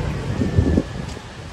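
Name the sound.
strong wind outdoors in Canggu, Bali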